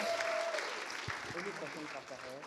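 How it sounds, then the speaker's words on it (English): An audience applauds Nanaba at an inspirational talk by a speaker, with steady clapping filling the room as a speaking voice begins over it near the end. "And I think Nanaba deserves a round of applause"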